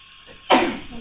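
A single sudden sneeze bursts out in a lecture room after a quiet moment, loud and sharp, then trails off over a fraction of a second.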